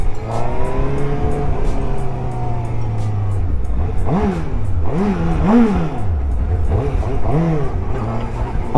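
A Suzuki GSX-S motorcycle, an A2-eligible model with its stock exhaust, revving hard and accelerating, the engine note climbing and falling in several sharp surges. Loud and close throughout.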